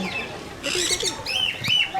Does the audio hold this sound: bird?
yes